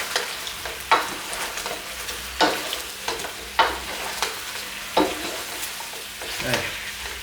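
Soy sauce chicken wings sizzle steadily in a pan, with a series of sharp clattering scrapes as they are stirred and flipped, close and fairly loud, no talking.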